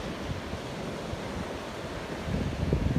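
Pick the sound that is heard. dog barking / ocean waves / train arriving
ocean waves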